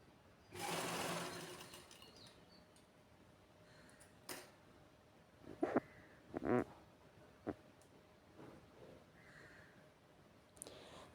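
Sewing machine stitching a princess-cut blouse, running in a sustained burst near the start, then a few short clicks and brief stops of the mechanism, fairly close with no talk.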